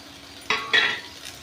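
Chopped beans, carrot and potato are tipped into a pan, making two quick clattering scrapes of vegetables and a spoon against metal, followed by a faint sauté hiss; close and brief, with no talking.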